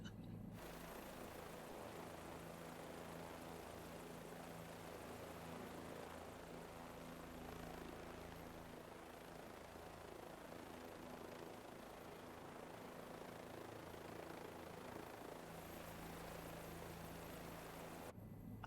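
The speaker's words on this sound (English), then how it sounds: "I will say though, this helicopter is sweet." Steady rotor and engine drone of a helicopter in a flight game, constant and moderately loud with a low tonal hum throughout, no talking.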